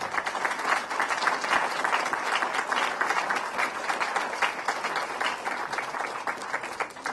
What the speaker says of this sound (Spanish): ar Ovejero, José Goyena y Joseba Montesinos, para los que pido este primer fuerte aplauso de la tarde